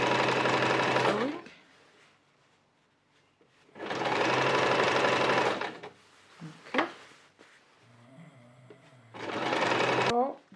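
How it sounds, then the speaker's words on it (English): A sewing machine stitches bias trim onto the neckline of an A-line wrap dress in two long, steady runs with a shorter burst at the end, close and loud. Quiet handling noises fill the gaps between runs. "sewing."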